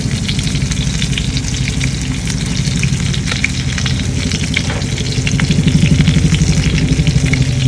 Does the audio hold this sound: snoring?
no